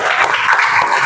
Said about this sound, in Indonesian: Aplaus buat semua, yuk.